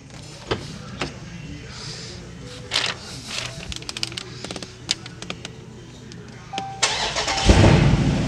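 A Chrysler/Dodge car engine cranks and starts near the end after a series of clicks and small mechanical noises, ending in a rising rumble.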